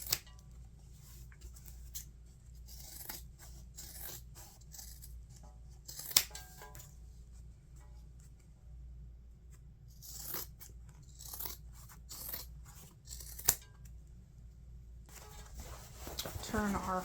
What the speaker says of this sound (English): trim our regular seam allowance down to about 1/4 of an inch